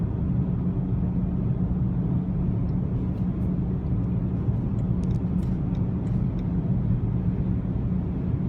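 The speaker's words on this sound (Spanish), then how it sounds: "el motor se ha acelerado. No es que haga un ruido muy fuerte, pero sí que se hace notable en este punto." Inside a BMW i3 REX on the move, the range extender engine runs under load as a steady low droning rumble, constant and moderately loud beneath road noise, with faint intermittent ticks above.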